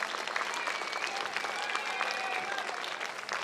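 Applause from an audience at a community event in Gympie, cheering a politician who showed up; steady dense clapping fills the whole stretch, with a few whoops and voices over it.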